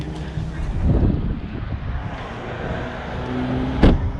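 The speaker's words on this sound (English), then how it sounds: "This dual clutch really puts the power down well," A 2019 VW GTI with a 2.0-litre turbo and DSG dual-clutch gearbox drives around the Road America track, its low engine drone heard from inside the car under heavy wind rumble, with a brief louder burst near the end.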